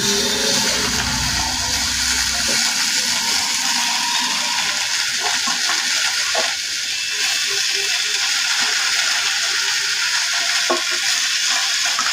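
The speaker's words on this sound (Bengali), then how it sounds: "এবার কড়াইতে ঘাটকোল পাতাগুলো একে একে দিয়ে দিচ্ছি।" Kharkol leaves frying in a kadai produce a loud, dense, unbroken hissing sizzle close up, with faint scattered crackles running through it.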